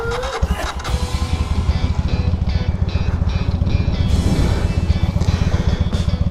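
A Honda Shadow motorcycle engine cranks and catches, then settles into a steady, loud, rhythmic V-twin idle pulse close by.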